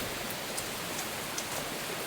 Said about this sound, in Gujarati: જો વરસાદ આવી ગયો.